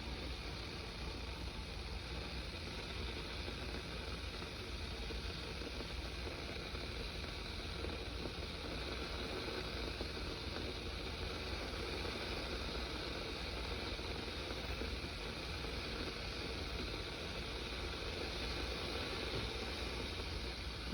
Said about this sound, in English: we're going to see how long it takes for this Paderno kettle to boil water